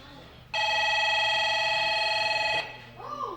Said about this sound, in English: Somebody's got a phone ringing.